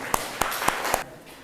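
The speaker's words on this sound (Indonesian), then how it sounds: "beri tepuk tangan untuk kelompok 1" A classroom group gives applause for a student presentation group, with four distinct claps followed by fading room noise.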